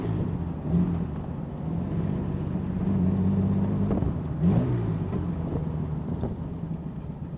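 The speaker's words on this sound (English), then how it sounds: "The six cylinder gives a very different noise from a V8." A straight-six engine hums at a steady idle, then briefly revs up with exhaust crackle and settles back down. It is fairly quiet and heard from a short distance.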